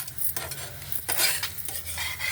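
Egg fry seasoned with salt and chili powder cooking in a pan, with a steady close sizzle under repeated scraping and stirring of a utensil against the metal, no voices.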